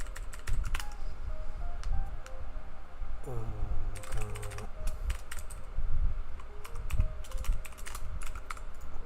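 Typing on a computer keyboard during C++ game programming: rapid, uneven clusters of crisp key clicks, close and clear, with a brief voice murmuring partway through.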